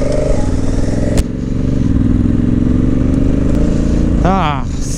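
A Honda Africa Twin motorcycle idles and rumbles close by, ready to ride trails, with a steady throbbing engine note, a brief clack, and a rev toward the end while a person talks over it.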